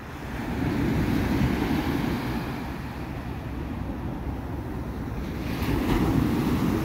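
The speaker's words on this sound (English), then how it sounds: "Big waves took all the sand away again." Big ocean waves roll and break on a morning beach where the surf has stripped the sand away, a loud continuous roar with heavy wind buffeting the microphone and no talking.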